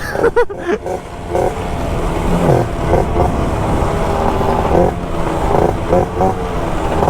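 A 50cc automatic scooter rolls downhill on a mountain road, its small engine buzzing and surging up close with wind rumble and uneven loudness, someone speaking over it.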